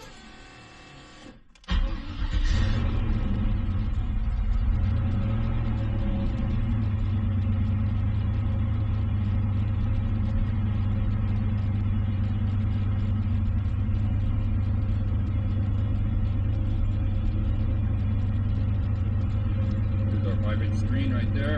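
A car engine fitted with a Summit Racing exhaust cutout cranks and fires up with the cutout open, then settles into a loud, steady, rumbling idle heard close for the rest of the clip.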